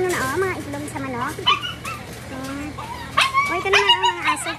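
Several dogs at a warehouse barking and yipping in short irregular bursts, fairly close, with people talking over them.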